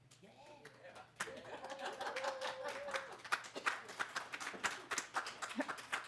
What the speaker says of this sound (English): I will ask the public to please hold your applause.